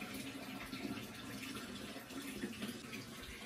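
Continuous liquid pouring and trickling close by as a calcium solution is poured for a sick cow, a steady watery flow with no talking.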